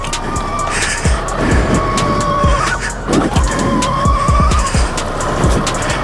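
Rawrr Mantis X dirt bike ploughing through wet mud on a motocross track, engine revving and surging in bursts with sloshing, splattering noises.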